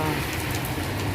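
Light rain falling on a wet, recently flooded street in Bahrain, a close, continuous patter and hiss heard alone for a moment.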